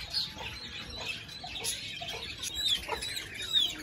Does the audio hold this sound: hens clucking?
yes